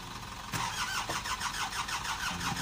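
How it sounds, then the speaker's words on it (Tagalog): An Isuzu 4HK1 diesel engine cranks but fails to start, giving a rhythmic, whirring starter churn that runs for about two seconds without catching; no speech. "so nagka-cranking siya mga kayabe, kaso ayaw umanda"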